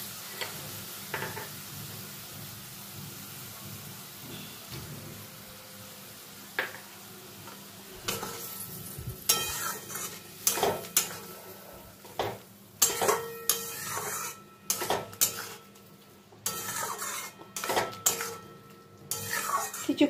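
Potatoes and onions with spices being stirred and fried in a pan over a low gas flame, with quiet sizzling at first, then repeated scraping and clinking of a utensil against the pan in irregular bursts, fairly close.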